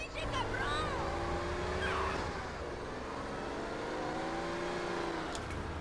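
A car drives in GTA San Andreas, its engine droning and rising and falling in pitch as it accelerates, with voices in the background.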